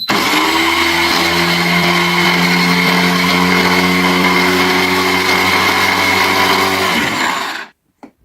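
An Arzum Choppy AR 1133 electric chopper whirs steadily while chopping onion, a loud, even motor drone with a low hum that runs for about seven seconds, then cuts off and winds down to silence.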